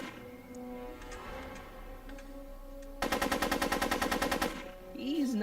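Rapid gunfire from a Back to the Future video game cuts in as one fast, evenly spaced burst of about a dozen sharp shots over quiet game ambience, then stops.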